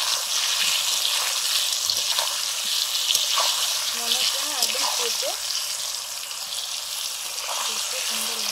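Ash gourd sizzles in hot oil in a pan, a steady bright frying hiss running throughout with occasional stirring clinks, while someone talks over it.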